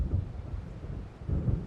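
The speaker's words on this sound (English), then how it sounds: "It seems there's a storm coming." Low rumbling thunder from an approaching storm in the video game Alan Wake, swelling at the start and again near the end, with no talk over it.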